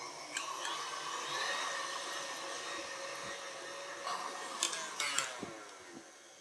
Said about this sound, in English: Whisk this over high speed until they're really nice and fluffy.